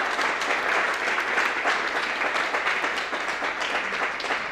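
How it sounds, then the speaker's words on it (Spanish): A church congregation applauds at a Sunday celebration service, dense steady clapping filling the space for several seconds, loud and continuous with no break. "Vamos a darle un aplauso"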